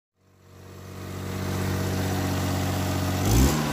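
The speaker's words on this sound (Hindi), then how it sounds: "चलिए चलते हैं आगे और गाड़ी को स्टार्ट करते हैं" A car engine cranks and catches, then settles into a steady, moderately loud idle with a low rumble, followed by a brief throttle blip near the end.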